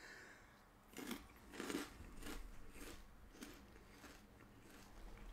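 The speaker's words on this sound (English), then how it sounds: "This has a better crunch." Hot red spicy chip snack crunched between the teeth, a few distinct close crunches followed by softer chewing, quiet and alone without talk.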